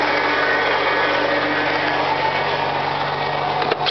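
A Ford F-250 pickup with a Cherry Bomb muffler and a welded-on larger exhaust pipe runs loud and close, a steady rumbling drone with a faint knock near the end and no voices.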